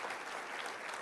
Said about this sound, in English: they deserve a huge round of applause from us